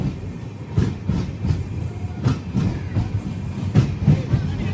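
A passenger train on the Pamban bridge route near Ramanathapuram runs steadily, its wheels giving a rhythmic clickety-clack over rail joints beneath a continuous low rumble, close and fairly loud, with no talking.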